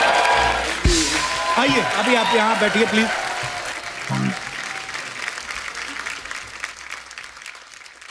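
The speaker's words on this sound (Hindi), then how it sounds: "तो आपकी जोरदार तालियों के बीच मैं स्वागत करना चाहूंगा" Studio audience on a TV comedy show applauds a singer: loud, sustained clapping that gradually fades, while a host speaks over it.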